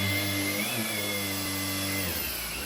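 A Shark PowerDetect IP3251UKT cordless vacuum cleaner runs in boost mode, giving a loud, steady motor whine with a strong hum that holds constant throughout, with no voices.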